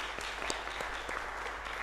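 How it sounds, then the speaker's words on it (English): Conference audience applauding panelists, a steady wash of many hands clapping at moderate volume with no voices over it. "We'd like to give a big round of applause to our panelists."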